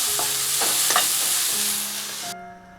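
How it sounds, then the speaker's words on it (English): Red pepper with a pinch of salt is stirred in a hot pan, giving a loud, close sizzle broken by a few scraping strokes of the utensil before the frying noise drops off abruptly near the end. "For the red pepper, add a pinch of salt and stir for 20 seconds."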